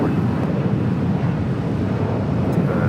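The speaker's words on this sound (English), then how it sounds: "Next takeoff here on the south side, Delta Airlines Flight 811 heading to Miami at 737-900 ER" A Delta Airlines Boeing 737-900ER jet takes off at Los Angeles International Airport, a steady, broad, distant roar that holds level throughout, mixed with wind buffeting the microphone.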